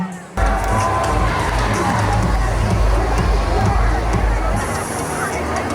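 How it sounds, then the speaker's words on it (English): An audience at a school awards event applauds and cheers, a loud continuous wash of clapping and crowd noise that starts abruptly and holds steady, with voices mixed in. "Let's hear a huge round of applause"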